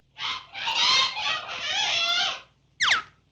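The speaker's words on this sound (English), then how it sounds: "we hear a startled hen squawk" A startled cartoon hen lets out a loud, drawn-out squawk, followed by a short sharp cluck after a brief pause.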